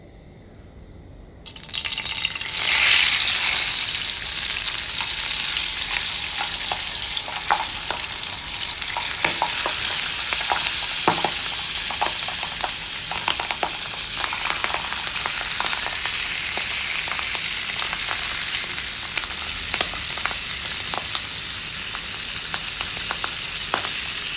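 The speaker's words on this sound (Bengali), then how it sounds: "মাছটা ভাজা হচ্ছে" Pabda fish frying in hot oil in a frying pan, a steady loud sizzle that bursts on after a quiet start and keeps crackling with small pops for the rest of the stretch, with no voices.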